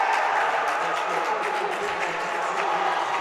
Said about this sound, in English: And the Greenie crowd is loving it